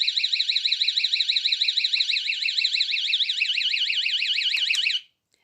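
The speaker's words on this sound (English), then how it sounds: "it sends a massive alarm, and the alarm doesn't stop until you actually get up and turn it off" A portable door-stop security alarm blares a loud, rapidly warbling electronic siren that pulses without pause for about five seconds, then cuts off abruptly into silence.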